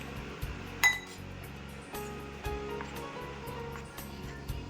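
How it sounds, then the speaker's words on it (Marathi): Dosa batter mixed with baking soda and water in a bowl, with faint wet stirring and a few light clinks of a spoon against the bowl, quiet and close. "पाणी टाकून हे मिक्सचर छान असं मिक्स करून घ्यायचं"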